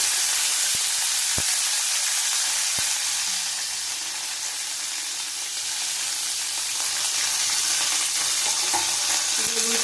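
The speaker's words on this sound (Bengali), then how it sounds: "ভালো করে ভেজে নেবো উচ্ছেটা" Bitter gourd (karola) fries in oil tempered with nigella seeds in a pan, giving a loud, continuous sizzle that dips slightly midway, with a few faint clicks of a utensil.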